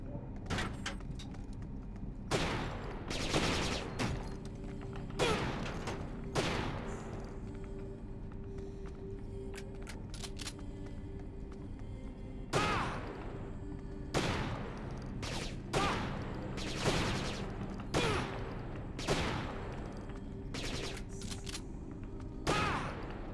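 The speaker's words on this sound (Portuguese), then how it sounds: "Vocês viram o tanto de tiro que eu precisei dar pra matar o cara?" Gunfire in the video game Syphon Filter: Logan's Shadow, loud sharp bursts of shots arriving in clusters separated by quieter gaps, with a speaking voice underneath at times.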